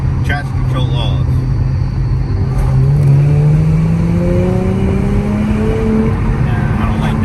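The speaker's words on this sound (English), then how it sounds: "This is second gear. Traction control off." A car with Super 10 exhaust accelerating hard in second gear with traction control off, engine note climbing steadily in pitch, loud and close, with a voice talking over it.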